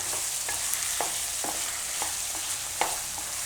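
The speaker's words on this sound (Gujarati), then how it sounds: "હવે આપણે એમાં બટેટા નાખી દઈશું બાફેલા અને આપણે મિક્સ કરી લઈશું." Boiled potatoes are stirred into a dry amaranth-seed dish frying in oil. A continuous close sizzle runs under rhythmic spatula scrapes about every half second, with no talking.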